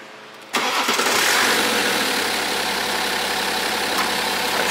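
BMW 5GT after engine repair for abnormal noise and low power: starter cranks briefly, then the engine catches with a loud burst and settles into a steady, smooth idle, heard close up without talk.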